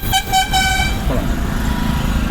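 A car horn sounds on a city road during a driving lesson, two or three short loud honks in quick succession up close, followed by the steady rumble of engine and traffic.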